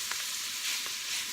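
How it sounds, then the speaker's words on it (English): Meat being stirred into cabbage in a hot frying pan, a short soft sizzle with a few faint scrapes of the utensil, no talking. "I'm just stirring all the meat into"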